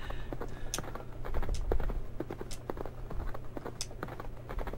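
Hooves clopping in a horse racing video game on a retro gaming console, a quick irregular patter of hoofbeats over a low electronic hum at modest loudness.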